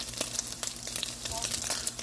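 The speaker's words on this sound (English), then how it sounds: "this is my second batch of turkey bacon I got in here. That's frying up." Turkey bacon frying in a pan gives off a steady, close crackling sizzle with scattered pops and spits, with no voices over it.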